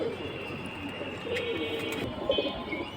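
Babu and sparrow pigeons at a pigeon farm coo in a low, continuous murmur beneath steady background hiss, with faint clicks scattered through.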